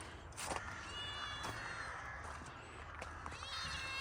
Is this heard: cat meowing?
yes